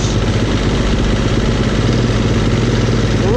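A Kubota B1550 tractor engine runs close and loud, a steady throbbing diesel rumble with clattering vibration that holds constant throughout.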